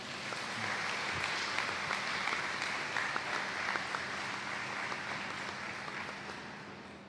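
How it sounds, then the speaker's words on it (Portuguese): Warm round of applause from an audience at a religious retreat talk in Lamego, a steady dense clapping that holds throughout and fades slightly at the end. "e pedia uma salva de palmas"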